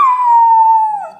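A dog howls once in a single long, clear, sustained note that starts loud and close and then slides down and fades at the end, heard alone.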